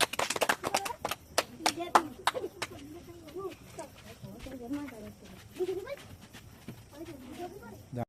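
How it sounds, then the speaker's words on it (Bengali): A group of children clap in quick, uneven bursts at the start during an outdoor quiz game, and then the claps thin out under ongoing talk and chatter. "সবাই হাততালি, সবাই হাততালি।"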